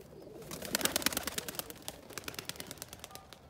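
Young pigeons from a flock coo softly in a loft, faint and close, over a patter of fluttering wings and scattered sharp clicks and taps.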